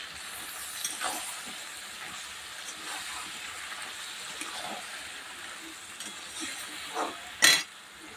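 Crab curry with salt sautéing in a pan: a faint, steady hiss and sizzle, broken by occasional soft stirring scrapes and one louder clatter near the end.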